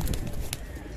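Lal Ambarsare pigeons coo softly in a loft, a low murmuring burble with a couple of brief brighter bursts, close and steady through a short moment.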